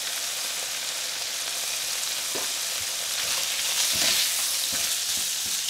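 Pork chops seasoned with salt and black pepper sizzle steadily in a pan, a dense hiss with soft crackles and a few light pops throughout, no voices.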